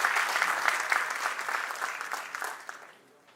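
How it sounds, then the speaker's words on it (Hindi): Applause welcoming a minister at a chamber of commerce centenary celebration and headquarters inauguration in Maharashtra, a dense burst of clapping from an audience that fades out toward the end. "जोरदार तालियों के साथ, करतल ध्वनि के साथ हम आपका अभिनंदन करेंगे।"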